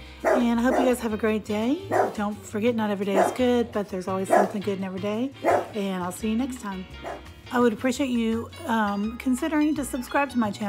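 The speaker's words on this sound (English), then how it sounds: "Excuse my dog, she sees somebody walking by." A dog barks at someone walking past outside, with yips and whimpers scattered beneath continuous close talk from a woman throughout.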